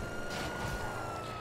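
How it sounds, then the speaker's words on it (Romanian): A police car siren in the GTA V video game wails steadily with a sustained tone over game traffic noise, heard throughout at a moderate level. "Ia, mașina e poliție fix în spatele meu."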